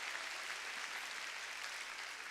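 A church congregation claps during a Sunday worship sermon, a faint, distant wash of steady applause filling the hall with no voices over it.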